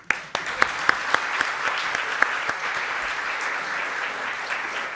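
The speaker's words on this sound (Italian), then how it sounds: "Possiamo applaudirla." An audience at a meeting on high housing-cost cities bursts into applause. Several sharp claps open it, then it settles into dense, sustained clapping that carries on at an even level to the end.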